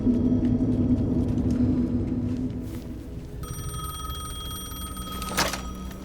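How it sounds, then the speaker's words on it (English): A payphone rings in the video game Alan Wake II, its bell-like electronic ring rising over a low rumbling ambience in the second half, with a brighter burst near the end. "The payphone was ringing."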